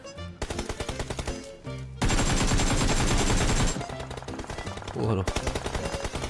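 Automatic weapon fire in PUBG Mobile rattles out in rapid, loud bursts, with a dense sustained barrage in the middle, under excited commentary from a player.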